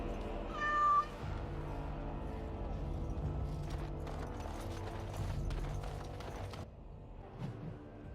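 A cat called Sir Pouncelot in the Dragon Age: Origins – Awakening video game gives a short high meow at the start, followed by a quieter stretch of clopping and creaking game ambience with no talk.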